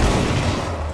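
A burst of gunfire in Rainbow Six Siege, a dense rattling volley filling the whole moment, loud and close with no talk.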